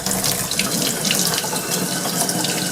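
Hot water gushes from a tap into a laundry tub in a steady, splashing stream, fairly close and uninterrupted, with no voices.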